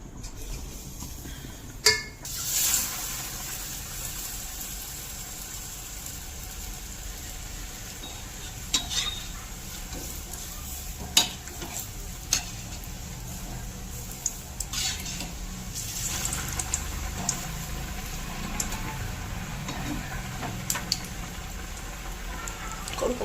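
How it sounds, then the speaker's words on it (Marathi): Pav vada deep-frying in hot oil gives a steady, even sizzle from close by, with an occasional sharp clink of a utensil against the pan. "आपण सर्व जे पावाडे आहेत ना ते इथं मस्तपैकी तळून घेऊयात"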